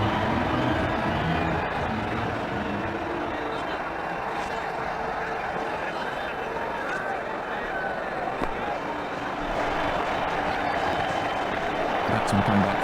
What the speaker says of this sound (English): The crowd really enjoyed that one.